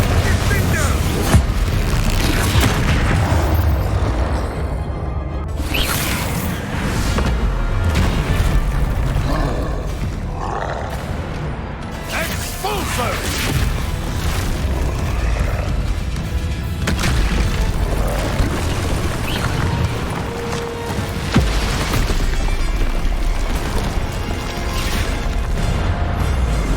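Bombarda and Confringo spells blast in the video game Hogwarts Legacy, a dense, continuous barrage of deep booms and crashing impacts at loud level, with a voice heard amid the explosions.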